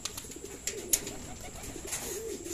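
Racing pigeons at the loft during club training give soft, low, steady coos, fairly close, with faint clicks and bird rustling in the background.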